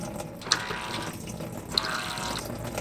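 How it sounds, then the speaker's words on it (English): An electric Thetford Porta Potti 565E portable toilet flushes into its sewage tank, giving a steady close watery rush with two brief sharp peaks that mark the pulses. "So it flushes in pulses, which is kind of nice"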